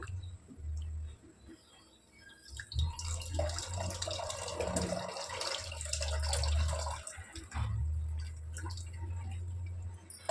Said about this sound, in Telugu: సో దీన్ని ఇలా మొత్తం చింతపండు రసం పిండేయాలి పప్పులో